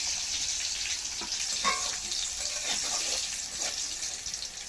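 Five cut green chillies and a pinch of kalo jeera (nigella seeds) frying in hot oil, giving a steady close sizzle with scattered small crackles and pops, no talking.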